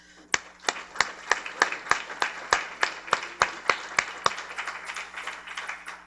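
Scattered applause from a small audience at a community meeting welcoming guests, with distinct individual claps in an uneven rhythm that thin out toward the end.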